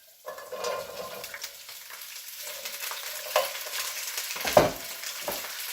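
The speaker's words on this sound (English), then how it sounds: "And we throw in the green beans." Green beans hitting hot oil in a pan for Greek fasolakia, a steady broadband sizzle rising after a soft start and holding with small crackling bursts and stirring scrapes, close and fairly loud.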